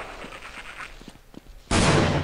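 A Magnum revolver fires in the video game Half-Life, one abrupt, loud blast that follows a stretch of faint ticks and small clanks from the game, the shot's broad roar carrying on to the end.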